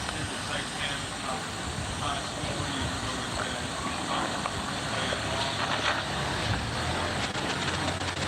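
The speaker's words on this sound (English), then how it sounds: "Cars are noisy, I can't really hear you." Steady roadside traffic of passing cars and trucks forms a continuous broadband roar throughout, fairly constant in level, with voices faintly mixed into the background.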